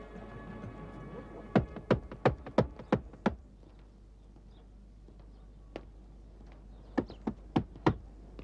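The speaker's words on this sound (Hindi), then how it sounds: "खटखटाऊं दरवाजा?" Knocking on a wooden door in a dubbed drama scene: a quick run of six sharp raps, a pause with one faint tap, then a second burst of four knocks, close and crisp over a quiet room.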